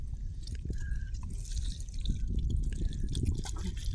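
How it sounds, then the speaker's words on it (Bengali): Water poured from above onto cupped hands at a rural family home, a steady splashing and trickling that runs continuously at close range without talk. "জলটা উপর থেকে ঢালো"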